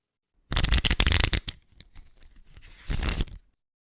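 Playing cards riffled and shuffled by hand for a Scooby-Doo or X-Files card game, a loud dense burst of flapping and crackling, then a lighter rustle and a second fast riffle before silence.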